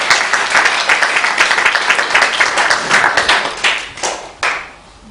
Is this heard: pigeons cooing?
no